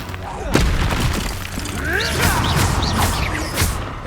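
Expulso spell blasts in Hogwarts Legacy combat, several booming explosions with crashing, shattering debris amid busy battle noise, with voices talking over the fray.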